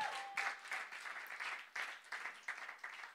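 A church congregation applauds in steady, dense clapping that holds for a few seconds, heard at a moderate distance with soft swells and no one speaking over it.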